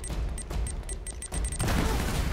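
Enemy gunfire in Uncharted: Drake's Fortune comes as a string of regular sharp shots, then gives way to a louder burst of noisy impacts, with no speech.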